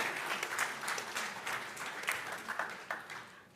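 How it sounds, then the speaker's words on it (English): An audience at an investment summit applauds the event's headline sponsors, a moderate crowd of clapping hands with a few sharper individual claps standing out, tapering slightly toward the end. "A round of applause for them, ladies and gentlemen."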